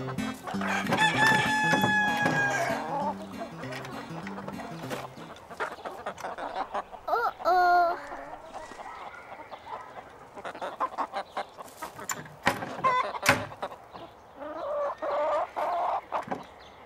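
Chickens cluck and a rooster crows at feeding time in a German Teletubbies cartoon episode, with a loud crow near the start and another brief one mid-clip, under busy bright cartoon clatter and chirps.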